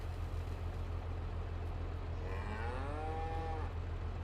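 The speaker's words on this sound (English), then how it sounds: "black and white are very European cows" A cow moos in the video game No Man's Land, a black-and-white European breed, with a long drawn, wavering call midway through over a constant low engine-like drone and steady ambient hum.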